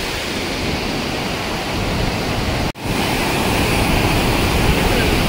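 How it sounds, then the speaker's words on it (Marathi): Randha waterfall at Bhandardara in monsoon flood, a massive torrent of water roaring as a steady, dense, broadband wash that fills the whole scene, broken only by a split-second dropout midway. "इतका जबरदस्त फॉर्म झालाय वॉटरफॉल इकडे"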